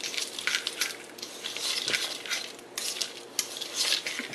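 Chopped walnuts and almonds being stirred for honey granola, a steady clatter of a spoon scraping and clinking against a bowl, close and continuous.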